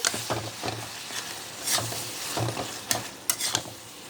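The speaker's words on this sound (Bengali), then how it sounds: "ঘিয়ের মধ্যে ভাজা মশলা পড়ে ও দুর্দান্ত গন্ধ বেরিয়েছে" Spices fry in ghee in a pan, a soft, quiet sizzle broken by stirring scrapes and a few sharp clinks of a utensil against the pot.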